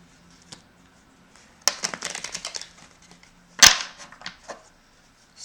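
Tarot cards being shuffled and drawn, with a quiet start, then a crisp flurry of riffling card snaps, a sharp slap, and a few softer flicks.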